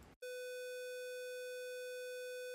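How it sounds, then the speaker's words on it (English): Steady, buzzy square-wave test tone generated in the ocenaudio audio editor. It starts abruptly after a brief moment of low noise, then holds loud and unchanging, with no voices. "So that's a square wave."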